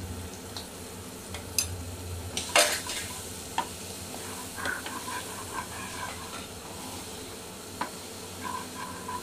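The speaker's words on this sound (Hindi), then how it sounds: "अब हम इसको अच्छी तरह से सॉट कर लेंगे।" Spices with garam masala, turmeric and salt sautéing in a pan for paneer samosa filling, a soft continuous sizzle with stirring scrapes and occasional utensil clicks on the pan, fairly quiet, no talk.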